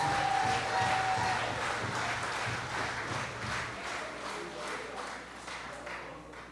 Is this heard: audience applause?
yes